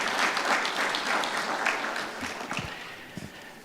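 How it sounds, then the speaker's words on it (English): Applause from a conference audience for a professor after his talk on a panel event, a dense crowd clapping that starts strong and gradually thins and fades toward the end, with a few louder individual claps near the close. "One more applause for Prof."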